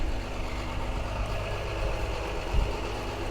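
A tree service crew's truck idles outside an open door while the crew works on an ash tree and a golden rain tree, giving a steady low engine rumble with a faint thump near the end.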